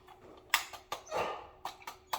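A dog barks in a home kitchen, firing off several sharp, separate barks and yips at uneven intervals, fairly close and moderately loud, with no talking in between.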